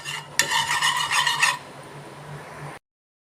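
A thick mixture stirred steadily in a pan on a gas stove, a short burst of scraping and clinking strokes close by, then a quieter hiss with a low hum before it cuts off.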